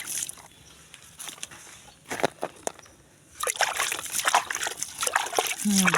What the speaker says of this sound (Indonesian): ini kita siram-siram tomat kita ini ya, sudah mau berbunga ini ya